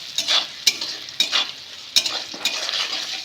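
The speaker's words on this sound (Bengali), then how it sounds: "নুন দিয়ে ভালো করে পেঁয়াজটাকে ভাজবো" Onions frying with salt in a pan for hilsa fish-head taro greens crackle with a steady close sizzle, broken by four sharp stirring scrapes at roughly even intervals.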